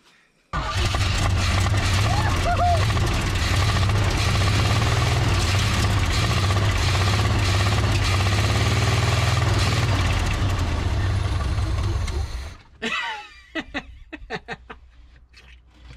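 An old truck engine with a huge exhaust leak idles with a loud, steady, rough rumble for about twelve seconds, then cuts off, leaving quieter scattered knocks and clatter.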